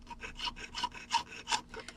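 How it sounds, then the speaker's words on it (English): A jeweler's hand saw cuts an earring shape from sheet metal, a quick series of rasping back-and-forth strokes, about seven or eight in two seconds, close and alone with no speech. "I'll hold my saw straight up and down, and I'm just going to start sawing."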